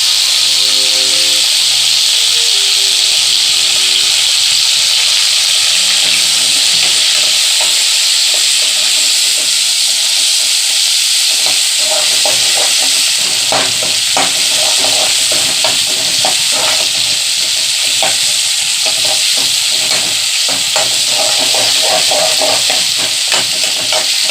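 Tomatoes and onions sauté in a pan for sambar, frying with a steady loud sizzle and hiss, while stirring scrapes and taps become more frequent in the later part.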